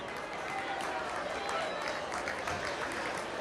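A crowd applauds scholarship recipients at a 100th Feast parade event, a dense, steady wash of clapping that stays loud and even across the whole stretch, with murmuring voices mixed in.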